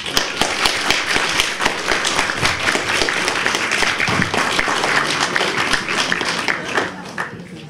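An audience at a talk on racism, Islamophobia and freedom of speech breaks into sustained applause, dense clapping filling the room steadily from start to finish.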